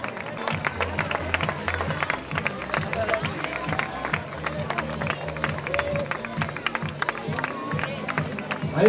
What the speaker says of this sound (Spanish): Fuerte aplauso para el segundo clasificado